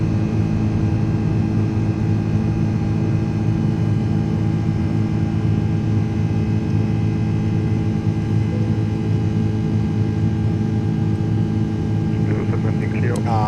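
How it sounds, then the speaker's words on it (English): Steady, loud drone of iniBuilds Airbus A330-300 jet engines climbing after takeoff in a flight simulator, a continuous hum with layered tones holding level throughout, with a brief faint higher sound near the end. "Why do the engines sound so much better the second you lift off the ground?"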